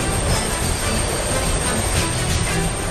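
Subway trains in the Coney Island repair yard, North America's largest train repair shop, produce a loud steady metallic rumble with high wheel squeal ringing over it, continuous and close.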